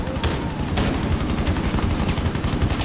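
Rapid automatic gunfire from the Rainbow Six Siege video game, a dense burst of sharp shots rattling continuously at high volume with no pause.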